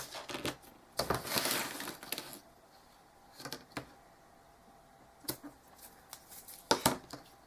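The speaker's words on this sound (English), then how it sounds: "I'm just going to use my 1/4 inch score tape right through the center" Quarter-inch score tape pressed onto paper for a paper bow, making close, crinkly crackling bursts of varying length separated by quiet gaps, with no voices.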